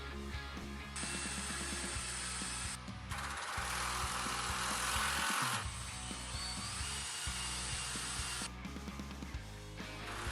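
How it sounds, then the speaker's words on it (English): A power drill runs in repeated bursts driving screws into wooden boards for a CNC table frame: several whirring pulses of a few seconds each, with short pauses between, up close and moderately loud. "I was drilling really close to the edge of most of these boards"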